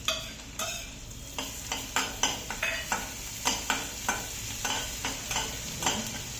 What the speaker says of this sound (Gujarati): થોડી વાર સાતળવાનું.